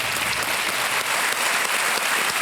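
Studio audience applause on a television quiz show, loud and close, a thick continuous burst of clapping that runs for a couple of seconds without voices.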